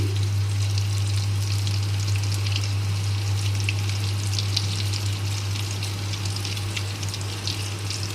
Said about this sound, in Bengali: এই যে মুইঠাগুলো ভাজা হয়ে গেছে